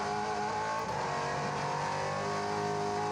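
V8 race cars at Teretonga circuit working through the turns, a continuous distant engine drone at moderate level with no talk over it.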